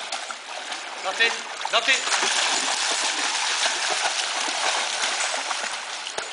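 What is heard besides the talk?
dogs splashing in a river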